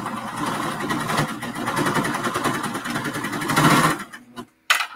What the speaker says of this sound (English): I'm going to run my serger blade right along the strip, my fabric strip